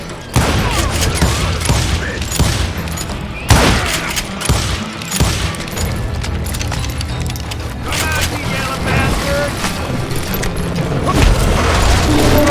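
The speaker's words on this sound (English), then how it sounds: "a fusillade of bullets come raining down from on high" A fusillade of gunfire from the western shooter game Call of Juarez Gunslinger, with repeated loud cracks and booms under a constant rumble and narration, one sharp burst standing out partway through.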